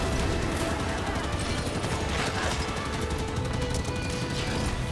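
Dense, continuous automatic gunfire in the video game Halo 5: Guardians, with rapid overlapping shots, loud and sustained across the whole stretch and no talk over it.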